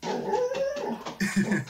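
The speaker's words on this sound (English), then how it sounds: "That's my dog." A pet dog gives a short run of high whines and yips, closely recorded, with a couple of sharper clipped yelps near the end.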